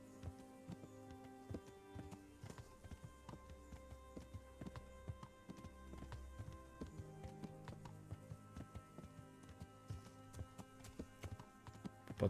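Horse hooves clop in a repeating rhythm while riding in the medieval video game Kingdom Come: Deliverance, steady footfalls over ambient game sound and a faint tonal score, moderately quiet throughout.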